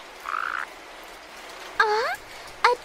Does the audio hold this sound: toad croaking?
yes